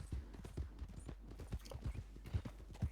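Horse hooves clip-clop in a steady trotting rhythm in a video game, the untrained mount moving at a brisk pace, with sharp repeated hoof strikes close and clear and no talk over them.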